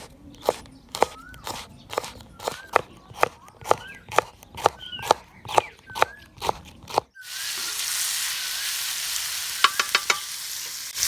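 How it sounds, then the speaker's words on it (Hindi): A dozen sharp, evenly spaced knife knocks on a board come first, then tomatoes hit a hot tawa for kaleji masala and a loud, steady sizzle takes over, with a few quick taps near the end. "और टमाटरों को भी हल्का सा फ्राई कर लेंगे।"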